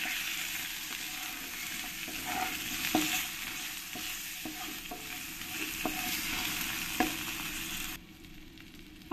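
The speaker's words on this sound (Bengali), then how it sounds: "এবার আমি আলুর মধ্যে একটু হলুদ আর একটু লবণ দিয়ে দেবো, দিয়ে ভালো করে আমি আলুগুলো ভেজে নেব।" Potatoes fry in hot oil with turmeric and salt, giving a steady loud sizzle broken by sharp spatula scrapes and clicks as they are stirred; the hiss drops off sharply near the end.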